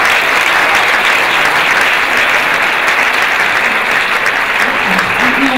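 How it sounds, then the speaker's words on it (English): Audience at a film Q&A applauding the people behind the project, loud, dense and sustained clapping at constant volume from start to finish, with a few voices faintly mixed in. "We can give them a round of applause for all of that."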